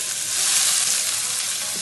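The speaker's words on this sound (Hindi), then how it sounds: "मैंने तेल डाला इसमें और ये 2 प्याज है।" Two onions sizzle in hot oil in a pan, a steady, close hiss of frying with no pauses and no voices.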